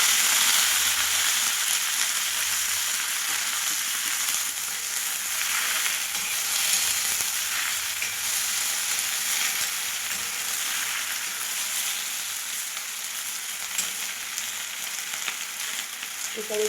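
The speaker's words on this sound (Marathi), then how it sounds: "कांदा हा भाजत आलेला आहे आणि आता मी टाकायला लागली आहे हादग्याची फुलं" Hadga flowers go into onions already frying in a pan, giving a dense, steady sizzle and hiss that holds at an even level throughout, close by and with no speech.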